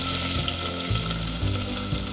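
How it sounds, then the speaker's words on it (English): A finely chopped medium onion sizzles loudly with golden-browned garlic in a pan over medium heat for a vegetable soup. The fry is close and continuous, with low rumbling bursts beneath the crackle and no voices. "Then add finely chopped 1 medium sized onion"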